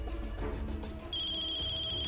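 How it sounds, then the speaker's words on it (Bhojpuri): A telephone rings in a household setting with a steady electronic trill that starts about halfway through, close and fairly quiet, with no talk over it. "फोन बज रहल बा"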